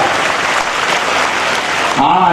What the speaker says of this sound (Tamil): கைத்தட்டுங்க சந்தோஷமா இருக்கு